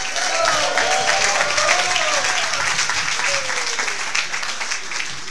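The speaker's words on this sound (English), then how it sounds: "Let's get a round of applause for Eric Winalda" A room full of people at a soccer club event in a Hard Rock Cafe applauds steadily for soccer figure Eric Wynalda, dense clapping sustained throughout with a few voices and cheers faintly mixed in.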